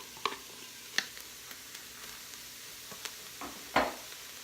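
Very lean ground hamburger meat sizzles and is stirred in an Instant Pot, with faint frying hiss under a few sharp scrapes and clacks of a utensil against the pot.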